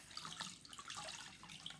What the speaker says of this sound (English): So I've just put the cloth in the water